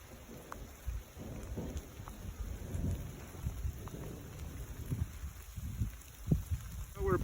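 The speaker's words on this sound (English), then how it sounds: "It's raining." Steady rain falls at a campsite during a thunderstorm, with low rumbles of thunder rolling beneath a constant wash of drops and a few sharper taps, loud and close throughout.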